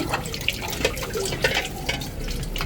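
Beef pieces being washed under running water for a beef and potato curry, a tap flowing into a sink with splashing and irregular sloshing bursts as the meat is rinsed by hand, fairly close.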